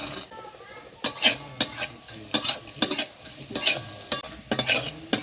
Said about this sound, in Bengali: আমার এই সবজিগুলো এবং বাদামগুলো সব ভালো করে ভাজা হয়ে গেছে